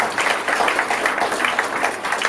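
An audience claps continuously at a Tamil gathering, a dense, even patter of many hands at moderate loudness, sustained without pause and with no voices over it.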